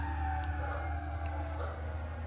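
Wailing emergency sirens sweep in pitch over a heavy low rumble of traffic, fairly close and continuous throughout.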